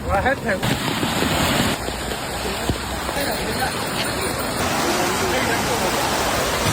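Floodwater from heavy rain rushing over a road and bridge, a loud continuous roar of churning water heard up close, with a voice speaking over it.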